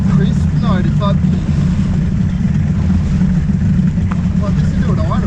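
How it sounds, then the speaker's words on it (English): Allison GT20 performance ski boat engine idling rough and uneven, a steady loud low drone close by with faint talk over it at a ski boat meetup. "this is doing idle, it doesn't idle like that"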